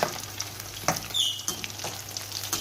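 Popcorn chicken pieces frying in oil over low heat give a steady close sizzle with soft crackles and small bubbling pops throughout.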